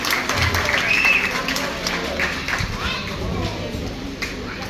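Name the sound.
audience clapping for children at a school graduation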